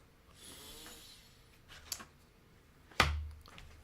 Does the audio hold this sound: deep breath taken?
yes